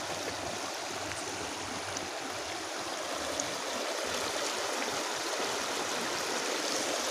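Broad, steady rushing of floodwater after heavy rain flowing across a farm field, a continuous close wash of water noise with no pauses and no voices.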